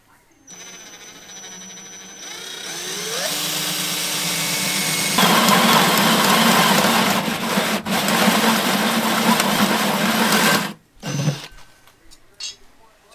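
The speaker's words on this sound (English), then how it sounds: "So right there should be where we drill our 2 1/2 inch hole." A drill cuts a 2 1/2 inch hole into the body of a 2005 Jeep Wrangler, a loud whining grind that rises, holds for several seconds, stutters and stops, with brief pauses and a final burst.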